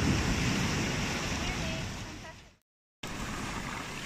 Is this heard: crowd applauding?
no